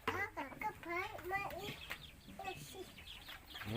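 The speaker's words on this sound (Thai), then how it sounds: "โคลินเหยียบไก่นะ" Chickens clucking close by in a farmyard, a steady busy run of clucks under children's chatter and speech throughout.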